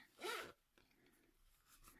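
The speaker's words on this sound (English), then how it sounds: "I love the sound of a zip." A zip on a small fabric pouch pulled once, a quick close rasping zzzip lasting about half a second, followed by faint rustling in a quiet room.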